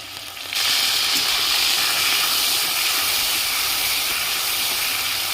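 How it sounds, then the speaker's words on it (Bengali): Ginger paste drops into hot oil already fragrant with bay leaf, dried chilli and radhuni, bursting into a loud, steady hiss and sizzle that holds without letup, close and alone. "তেলের মধ্যে আদা বাটা দিয়ে দিচ্ছি"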